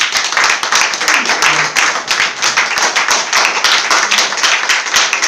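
A church congregation claps together in a loud, steady rhythm during a Passover service. The claps are fast and overlapping, with faint voices in the background.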